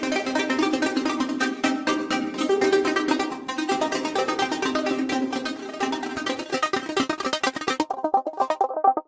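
A strummed Serum synth preset with a bright, rich arpeggio-like patch, dense rapid note attacks cascading steadily before thinning into sparser plinking notes at the end, with no voices.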